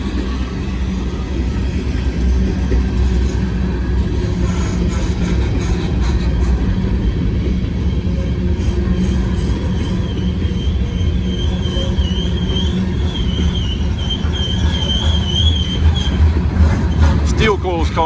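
A Norfolk Southern freight train with foreign-power DPU locomotives rolls past on wet, sanded rails in the rain, with auto racks and steel coil cars. It makes a loud, continuous rumble and clatter, with wheel squeal rising over it, and people talk throughout.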